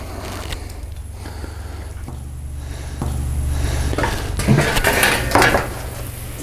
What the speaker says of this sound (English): I need to rotate these steaks.